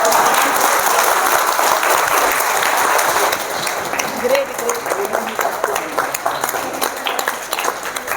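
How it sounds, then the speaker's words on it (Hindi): A crowd claps steadily and loudly, the applause thinning slightly toward the end as some scattered claps continue. "तो तालियां होनी चाहिए ना भाई।"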